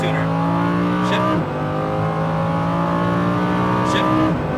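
A Lamborghini Huracan engine revs hard on a racetrack, its harmonics climbing under throttle, then a quick upshift dip before it pulls and climbs again, loud and close throughout.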